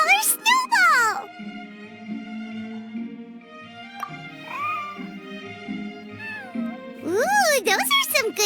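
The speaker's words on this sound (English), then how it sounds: "Here, kitty. That's it, Snowball. Good kitty." A white cat in a Genshin Impact video game cutscene gives several rising and falling meows in bursts at the start and again near the end. Soft sustained musical tones fill the quieter stretch in between.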